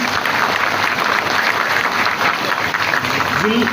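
Dense, steady applause from an outdoor crowd at a public event with a state minister, filling the whole stretch at full strength, with a voice briefly rising over it near the end.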